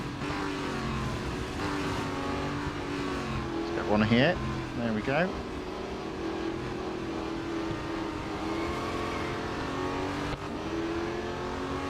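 Race car engines from the Real Racing 3 video game whine continuously through a multi-lap race while overtaking, with two short sharp revving bursts midway; someone talks over the engine noise.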